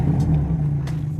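A 2021 Ferrari Roma engine runs with a deep, steady low rumble close by, a brief high whir audible on top.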